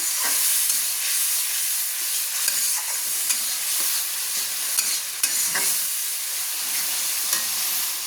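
Red chilli powder and turmeric are stirred in a frying pan for chicken darbari, a close, continuous hissing sizzle punctuated by occasional spoon scrapes and clicks.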